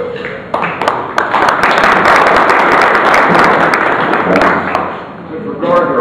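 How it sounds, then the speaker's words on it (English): An audience at a city's State of the City address breaks into loud, sustained applause with a dense clatter of hands, swelling and then tapering toward the end. "So applaud yourself for that."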